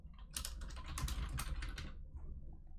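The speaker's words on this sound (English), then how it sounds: "So I can type the things in here" Rapid clicking of keys on a computer keyboard while text is entered into a web form, a close, steady burst of keystrokes that thins out toward the end.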